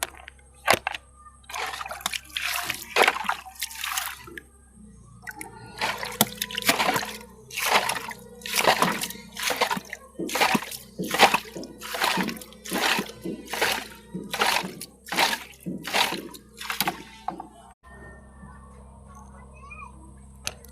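Water splashes rhythmically in a small wooden boat, a steady series of regular sloshing bursts close by that run for most of the stretch before fading out.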